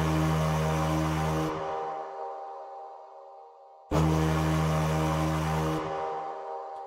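Conch shell samples layered in octaves blow as a full, buzzy horn tone, two long sustained notes separated by a brief decaying gap, loud and alone.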